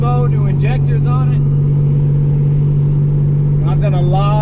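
A 1987 Buick Regal Turbo with a new turbo and new injectors cruises along, its engine a steady low drone throughout while someone talks over the start and again near the end.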